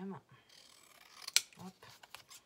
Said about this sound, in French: Et finalement, je vais les découper quand même.